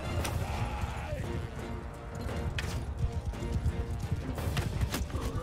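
A horse gallops in the game Mount and Blade Bannerlord, its hooves clip-clopping in a steady, dense rhythm over a constant battlefield din of clashes and noise.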